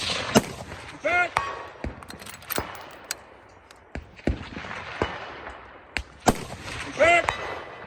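Sharp rifle reports crack out one after another at a shooting competition, loud and close, with ringing echoes, people talking and metal targets pinging in between.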